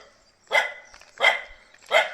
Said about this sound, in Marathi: हे आमचे भुकणारे कुत्रे